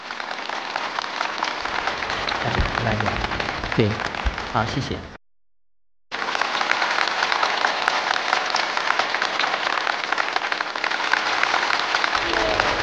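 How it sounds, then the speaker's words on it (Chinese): A studio audience at a television talk show applauds as a guest is welcomed, with dense, steady clapping that drops out briefly and then resumes just as full. A voice speaks briefly over the applause. "掌声有请"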